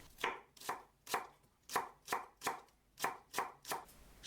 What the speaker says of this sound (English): Mince an onion, and 2 spring onions.